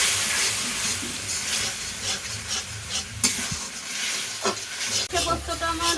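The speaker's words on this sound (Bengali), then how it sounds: "হালকা একটু কষিয়ে নেবো" Spices sautéing in a pan for a Bengali hilsa fish curry, a steady broadband sizzle with soft scraping stirs throughout, a few sharper clatters near the end, no talking.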